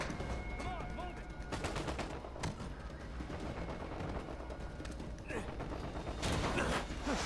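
Gunfire in the video game Uncharted 4, with rapid bursts of shots and impacts layered over game action, loud and dense throughout, mixed with voices and occasional mechanical clatter.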